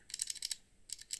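Clicky mechanical key switches on an 8BitDo Retro mechanical keyboard, typed in two quick bursts of sharp, close clacks with a short pause between them.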